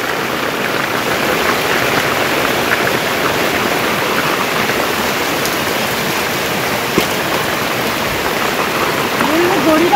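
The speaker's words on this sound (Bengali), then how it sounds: "ভালোই জোরে বৃষ্টি হচ্ছে কিন্তু দেখো" Heavy rain falling steadily for the whole stretch, a dense, even wash of drops with a slight swell near the end and no voices.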